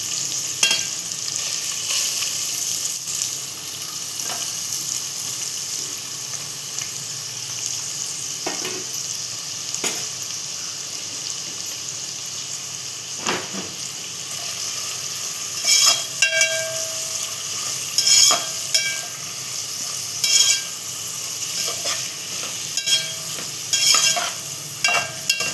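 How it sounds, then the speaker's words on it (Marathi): Four small onions fry in hot oil for a tandoori biryani, giving a steady, fairly loud sizzle that runs throughout, with occasional sharper crackles and stirring clicks. "आता आपण इथे तेल तापवायला ठेवलेलं, त्यात कांदा फ्राय करून घेतोय."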